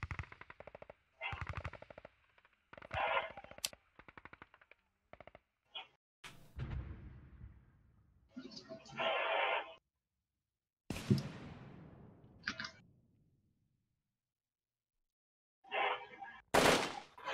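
Gunfire in the video game Hand Simulator: repeated bursts of machine-gun fire and single shots, loud and close, broken by short pauses and silences, with a final loud burst at the end.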